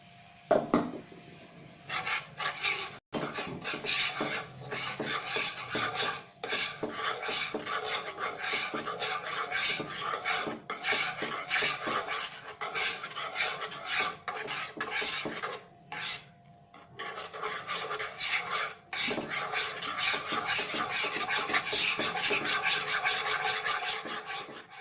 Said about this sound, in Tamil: இந்த மாதிரி ஸ்பேட்டரில் வச்சு கிண்டிக்கலாம்